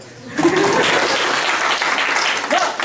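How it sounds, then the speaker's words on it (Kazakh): A live audience at a Kazakh-language comedy show breaks into steady, dense applause that holds loud for the length of the clip, with a few voices audible over the clapping. "Ұрайын деп жатқан шапалақтарыңызға рахмет."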